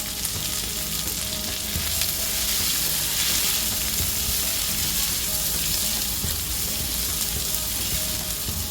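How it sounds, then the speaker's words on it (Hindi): Onions frying in oil for chicken dum biryani give a loud, dense, unbroken sizzle that stays close and even throughout, with faint movement from occasional stirring. "अब हमें प्याज को ब्राउन होने तक अच्छे से भूनना है"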